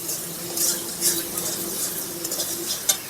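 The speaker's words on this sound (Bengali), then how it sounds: "এবার খুব ভালো করে মশলাটাকে নাড়াচাড়া করে মিশিয়ে নেব" Spices and turmeric are stirred in a pan for a cabbage dish, giving a soft scraping and clinking of a utensil against metal over a low sizzle. The strokes come in irregular repeated scrapes at close range, with no talk.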